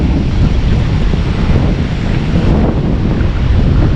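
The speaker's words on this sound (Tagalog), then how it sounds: "Mas malakas yata ang agos ngayon." Strong wind buffets the microphone over a fast, rushing river current, a dense, loud, unbroken roar that stays steady for the whole stretch with no voices.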